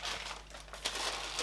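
Tissue paper crinkling as a beauty subscription box is unwrapped, a close, continuous rustle with a few sharper crackles and no talking.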